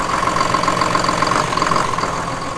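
A 2015 Hino cab and chassis truck idles steadily up close, its diesel engine giving a loud, even, slightly knocking hum with a constant tone and no revving.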